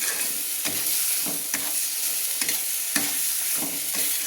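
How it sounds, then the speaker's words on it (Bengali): Ginger spice paste frying in oil while being stirred, a close sizzle broken by rhythmic scraping strokes roughly every half second, no voices over it. "যতক্ষণ না তেল ছাড়বে, তো সুন্দর গন্ধ বেরাবে, ঠিক মতো ভাজা হবে, ততক্ষণ আমি নেড়ে নেব।"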